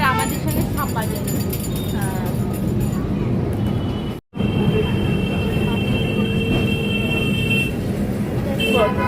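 Interior of a moving Kolkata tram on the way to Shyambazar, with a steady low rumble of wheels and car body, faint high rail squeal, one brief dropout midway, and people talking over it throughout.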